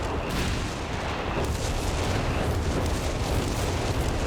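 Dense, continuous rumble of artillery fire in Company of Heroes 3, thick overlapping booms and blasts filling the whole stretch without pauses.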